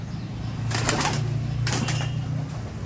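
A pair of Giribaz pigeons takes off, giving two short bursts of wing flapping about a second apart, close by, over a low steady background hum.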